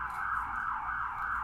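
A police car siren wails in a steady rising and falling cycle on a city street, fairly loud and continuous, with no talking over it.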